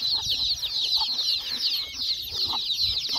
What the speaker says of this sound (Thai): ไก่น้อยพี่น้องนี่สนั่น